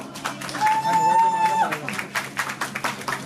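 Audience claps and applauds for guitarist Mohit at a live tribute event for Kishore Kumar's 89th birth anniversary, the clapping spread in bursts beneath and after a sustained tone, with people talking throughout.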